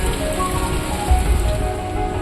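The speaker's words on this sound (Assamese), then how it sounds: "ৰাতিপুৱা ইমান ধুনীয়াকৈ বৰষুণ পৰি আছিলে" Morning rain falls steadily on a surface, a dense, even patter close by with a slightly heavier burst midway, no voices.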